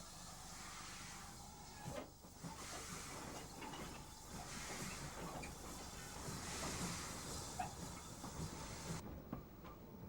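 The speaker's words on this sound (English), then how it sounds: "An N7 scurries past the yards with a northbound local" An N7 steam locomotive hauling a northbound local train past the railway yards on the Great Eastern line. Faint hissing steam and a low rumbling roll hold steady throughout, ending in a sudden cut near the finish.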